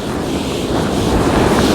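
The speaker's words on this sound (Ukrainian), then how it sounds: "тому що море шумить" Sea surf rolling in at Kryzhanivka on a choppy day, a steady loud wash of waves mixed with buffeting wind on the microphone, continuous and close with no voices.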